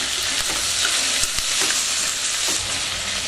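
Tomatoes sautéing in a pan for chicken and prawn biryani, a loud, close, continuous frying hiss with a few soft spatula scrapes and taps breaking through.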